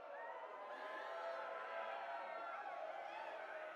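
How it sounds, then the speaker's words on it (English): A distant video game crowd roars and cheers in a continuous swelling wash of voices, steady throughout with no distinct individual words. "the rising applaud of the crowd, the voices melding into one another until the air veritably vibrates with the sound"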